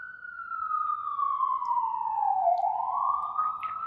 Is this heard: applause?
no